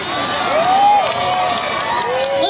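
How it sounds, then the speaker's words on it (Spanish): A crowd at a lucha libre wrestling event in San Luis Potosí cheers and applauds steadily, a dense roar of voices with whoops rising above it, loud and close. "Este aplauso va para todo mi San Luis Potosí."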